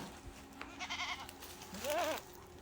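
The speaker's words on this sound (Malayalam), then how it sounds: "ഒരാടും അതിൻ്റെ രണ്ട് മാസം പ്രായമുള്ള രണ്ട് കുട്ടികളും വിൽപ്പനയ്ക്ക്" Nanny goat with two young male kids about two months old, a single close rising bleat near the end, with faint higher bleating earlier over quiet background.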